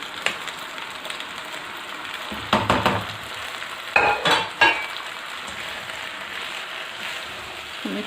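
Okra and meat masala being stirred in a pan for bhindi gosht, with scattered scraping and clinking spoon strokes over a faint sizzle, a few louder bursts of stirring in the middle.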